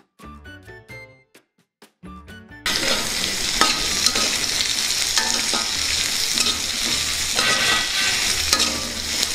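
Onions and green chillies sizzle and crackle in hot oil as they are stirred around a pan. A few sparse taps come first, then a dense, loud, steady frying hiss that continues to the end.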